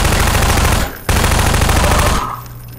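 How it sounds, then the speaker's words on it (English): Shotgun fire in the video game Half-Life 2 comes as loud, dense blasts filling the moment, with a brief gap before another heavy burst that cuts off to quieter game ambience. "let's go with the shotgun for now"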